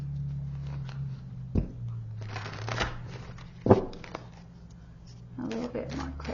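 Tarot cards shuffle in soft bursts of riffling and flicking, close and quiet, with a few sharper slaps against a low background hum.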